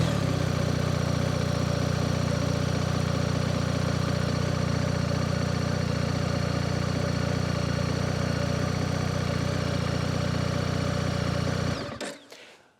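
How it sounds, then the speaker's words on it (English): A BMW R1300GS motorcycle idles close by with a steady, even engine hum while its suspension raises to enduro height, running unchanged until the sound fades out abruptly near the end. "the bike is in enduro mode and it raised up 30 millimeters"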